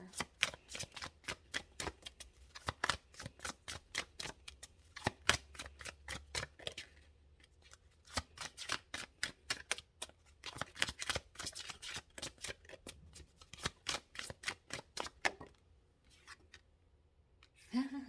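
Tarot guidance cards being shuffled by hand: quick, crisp runs of flicking and riffling clicks in close, repeated bursts with brief pauses, and no speech.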